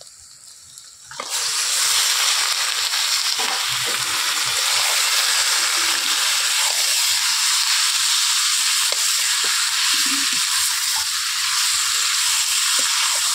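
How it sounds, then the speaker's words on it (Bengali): Chicken fries with onions in a hot pan, and a loud, dense sizzle starts after about a second and holds steady throughout, with faint stirring clicks underneath. "এবারে পেঁয়াজের সঙ্গে চিকেনটা আমি কয়েক মিনিট একটু ভালো করে ভেজে নেব।"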